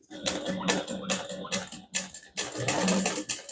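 A sewing machine stitching a handbag runs in short, loud, close bursts with quick pauses between them as the work is adjusted; there is no talking.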